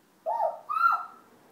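A child imitates an owl with two short hoots in quick succession, close and clear against a quiet background.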